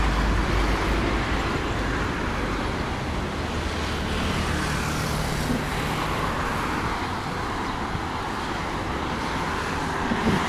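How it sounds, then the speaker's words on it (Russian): Steady car traffic rolls along a seaside promenade road in Oba, Alanya, Turkey, a continuous broadband roar of passing vehicles with no breaks and no voices. "Машин еще довольно много"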